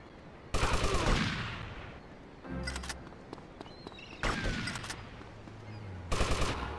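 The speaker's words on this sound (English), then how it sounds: "Who else is shooting at me?" Gunfire in the video game GTA Liberty City Stories, several loud bursts of rapid automatic fire separated by short pauses, close and sharp.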